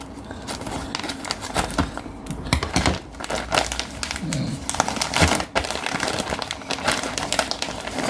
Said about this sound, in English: I seriously cannot open this bag.